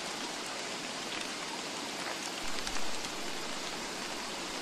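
Steady, even rain falling in a video game, a dense hiss of drops on surfaces that runs unbroken and fairly quiet, with a faint low rumble swelling briefly partway through.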